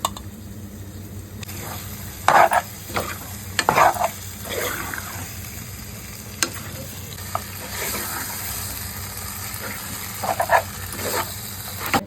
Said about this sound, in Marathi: आणि आता चिकन फोडण्यात टाकतोय.